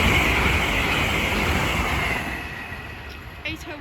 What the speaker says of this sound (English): The next train to pass by is going to be at LNER Azuma from Leeds to London King's Cross